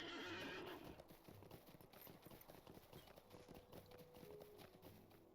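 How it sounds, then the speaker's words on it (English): A horse in the online game Lord of the Rings Online neighs briefly, then its hooves clip-clop in a fast, steady galloping rhythm, close but quiet. "let's get back on our horse, speed it up a bit"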